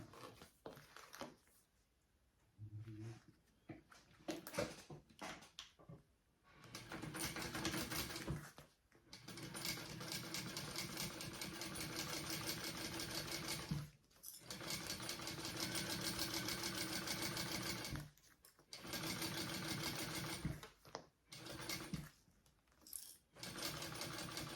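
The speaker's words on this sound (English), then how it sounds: "we are going to sew along there at our full seam allowance mentioned in the pattern" A sewing machine stitches a bag seam at full seam allowance in close, steady mechanical bursts, with several pauses and restarts between runs and no talking.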